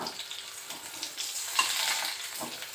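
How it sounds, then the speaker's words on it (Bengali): Potato pieces fry in oil in a pan for a home-cooked fish curry, giving a steady crackling sizzle with occasional stirring scrapes, close and continuous with no talk. "এখানে আলু আলুগুলো ভাজা হচ্ছে"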